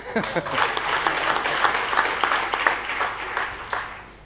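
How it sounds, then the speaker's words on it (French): Sustained audience applause at a diabetes nutrition conference: many people clapping in a thick, even patter, with individual sharp claps standing out now and then and the sound easing off slightly toward the end. "applaudissements très soutenus"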